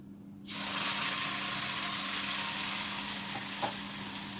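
Puree is added to a pan of browned garlic for pasta and bursts into sudden loud sizzling after a half-second of near quiet, then settles into a steady hiss with a faint clink near the end.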